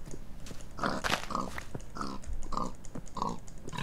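A pig grunting as it is killed in Minecraft, with several short grunts spread across the span and soft clicking and tapping throughout.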